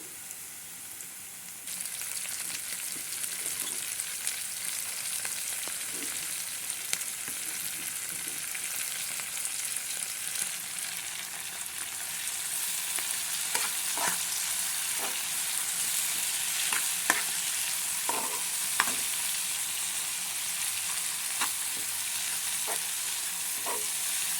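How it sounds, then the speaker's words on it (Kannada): Fenugreek leaves sizzle and hiss steadily in a pan over a low flame for a sauté dish, with occasional soft pops and crackles and faint stirring taps, no talking. "ಇವಾಗ ಮೆಂತ್ಯ ಹಾಕ್ಕೊತಾ ಇದ್ದೀನಿ ಸ್ವಲ್ಪ ಲೋ ಫ್ಲೇಮಲ್ಲಿ ಬೇಯಿಸ್ಕೊಳ್ಳಿ"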